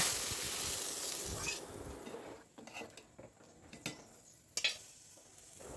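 Boiled dal hitting hot oil tempered with dried chillies, onion and garlic: a loud hissing sizzle that quickly fades, followed by a few sharp clinks of a utensil on the pot.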